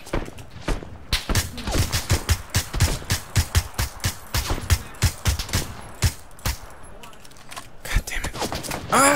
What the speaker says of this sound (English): There's so much gunfire.